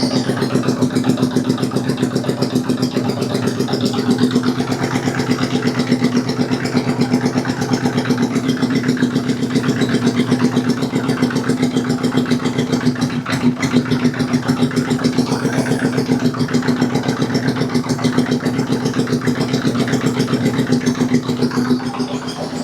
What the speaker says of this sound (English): Idle isn't quite perfect right there.